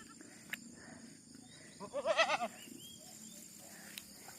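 Goats bleat while being herded to pasture, a short burst of several quavering bleats close by amid faint outdoor ambience and a couple of soft knocks, with no talk.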